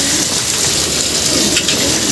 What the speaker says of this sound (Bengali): আর দেখেন কত বাতাস আর বৃষ্টি, সারাদিনই বৃষ্টি পড়বে আজকে